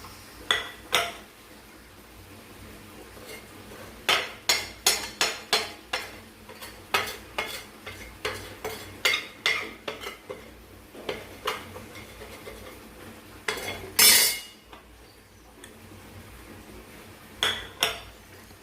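Spice powders are stirred into mango pickle in a pan, with a series of sharp scraping and clinking strokes of a spoon against the metal, irregular and close, over a faint sizzle.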